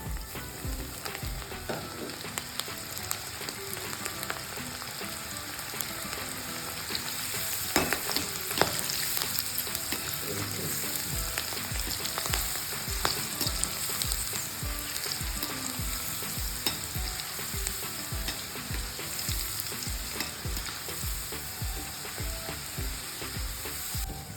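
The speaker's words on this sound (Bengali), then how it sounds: "এবার আমি অল্প অল্প করে ঢ্যাঁড়সগুলোকে ভেজে নিচ্ছি" Okra frying in hot oil in a wok, a loud, dense sizzle running throughout with steady rhythmic clicks and scrapes of stirring.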